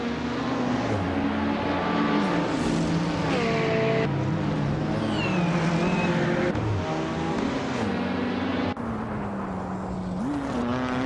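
Race cars roaring down a straight in a racing video game, engines droning loud and continuous with rising and falling pitch as gears shift, several cars overlapping side by side.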